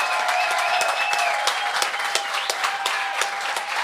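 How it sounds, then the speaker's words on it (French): Theatre audience bursts into sustained applause for a lineup of comedians at a live gong-show comedy taping, dense steady clapping throughout with no voices. "un tonnerre d'applaudissements pour Sam Demoy"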